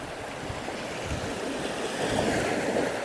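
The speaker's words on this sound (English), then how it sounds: "Bit of a soaking from the wave there." Ocean waves break and wash on the shore of a small saltwater bay, a steady close rushing surge that swells slightly louder toward the end, with no voices.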